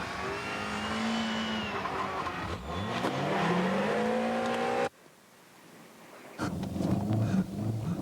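Racing cars in a 1990 snow battle at Tsukuba, a Honda Civic and Nissan Sunny NX among them, skid and spin off the snowy track. Engines rev loud and up close, then cut out briefly before rough engine noise returns.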